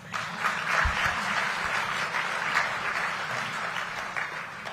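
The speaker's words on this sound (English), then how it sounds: "We can clap on that." Audience applause at a March On Washington Film Festival awards gala, a moderate, even wash of clapping heard at a distance in a large room, with no voices over it.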